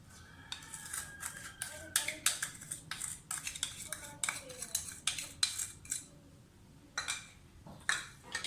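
Ghee and icing sugar for nankhatai biscuits are mixed in a bowl, heard as quick, rhythmic clinks and scrapes of a utensil against the bowl in bursts with short pauses, close but fairly soft, with some talking.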